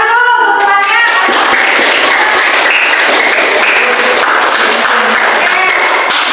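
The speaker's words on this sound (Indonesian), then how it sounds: "Kasih tepuk tangan dulu untuk temannya." Students in a classroom clapping for a classmate, loud dense applause with scattered thumps and taps, a voice speaking briefly at the start before the clapping fills the rest evenly.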